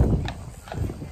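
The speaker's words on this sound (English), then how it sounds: "They even have horse-drawn hay rides for the whole family." Horse hooves clip-clop in a short burst from a horse pulling a carriage or hay ride at Disney's Fort Wilderness, with a few close steps over a steady outdoor background and no speech.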